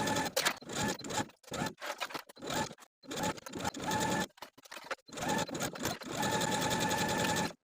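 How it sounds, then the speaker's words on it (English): Sewing machine edge stitching strap binding around the armhole of a slip dress, running in short bursts with pauses between, then a longer steady run at the end, close and clear with no talking. "we're going to take the strap binding to the sewing machine and edge stitch from one short edge of the binding all the way around the armhole"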